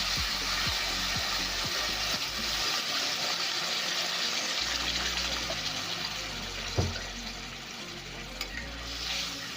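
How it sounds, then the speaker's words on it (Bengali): Water is poured into hot papaya curry in a pan, bringing a loud gushing, bubbling rush over the ongoing sizzle, followed by stirring scrapes and a few knocks of the spoon; no voices. "জল দিলাম"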